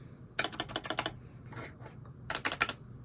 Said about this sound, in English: you simply push it in till it snaps.